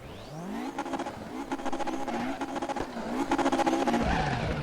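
A Mercedes race car drifts around a corner in RaceRoom Racing Experience, its engine climbing and revving hard with rapid pulsing gear-laden tone, tires squealing as it slides, steady and prominent throughout.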